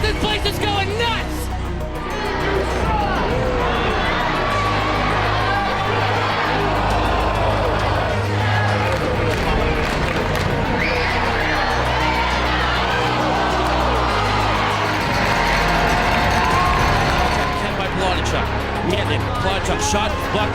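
A sellout crowd of more than 6,000 at the Covelli Center roars continuously during a hockey championship game, loud and sustained, with an announcer talking over it.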